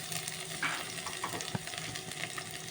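Garlic frying in oil in a kadai gives a soft, continuous sizzle at low level, with an occasional faint tap or scrape of stirring.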